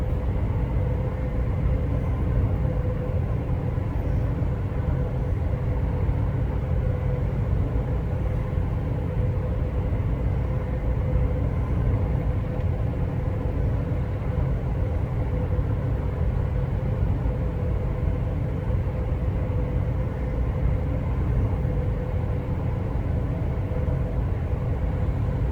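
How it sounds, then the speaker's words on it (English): In Train Sim World, a train passes the other way on the stopping service from Milton Keynes to Euston, a steady low rumble holding at an even level throughout with no talk. "It's the train coming the other way."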